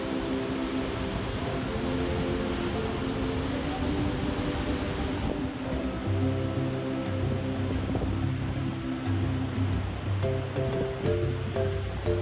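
Victoria Falls roars as a continuous, heavy broadband rush of falling water, loud and unbroken, with a low rumbling undertone that deepens partway through; no voices are heard.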